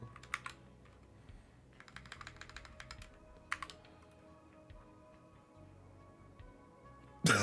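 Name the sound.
typing on a computer keyboard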